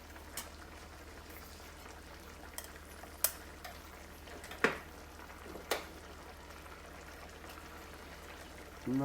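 Risotto simmers in a hot pan, giving a soft continuous bubbling sizzle with occasional brief clinks and stirring sounds, close and low in level.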